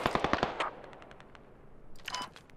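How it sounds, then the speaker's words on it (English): Bursts of automatic rifle fire in Squad, a rapid close string of sharp shots followed by a fainter distant volley, British Army and Russian Ground Forces fighting. "Oh, I'm getting shot at."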